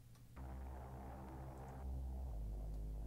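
Warm synth bass from a Logic preset with the highs cut and lows boosted, two sustained deep notes with a pitch change midway, smooth and quiet with no talking.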